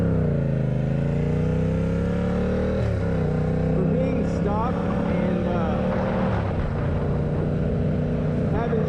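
A Venom X18R 200cc motorcycle with a drilled stock exhaust revs and rumbles loudly up close, rising and falling in pitch as it downshifts, with a brief voice in the mix.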